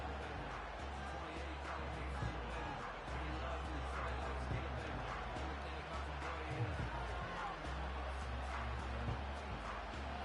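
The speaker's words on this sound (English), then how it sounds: "The crowd at Arrowhead roaring." Stadium crowd at Arrowhead roaring in the Madden 25 football video game, a steady dense wash of distant cheering with a low rumble running the whole time, no clear peaks.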